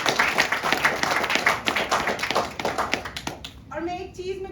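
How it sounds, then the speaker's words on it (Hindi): Audience clapping at a gratitude talk by a life coach, brisk and uneven, breaking off abruptly near the end as a voice comes in. "तालियां तो बजती रहनी चाहिए"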